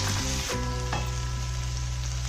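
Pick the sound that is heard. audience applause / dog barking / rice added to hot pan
rice added to hot pan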